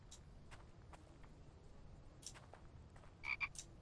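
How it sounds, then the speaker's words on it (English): A frog in the survival video game The Infected gives short, faint croaks scattered over a low ambient hum, with a brighter pair near the end. "Yeah, it's a frog."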